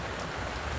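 Rain falls steadily on plants in a home garden, a dense even hiss of drops with no pauses across the brief moment.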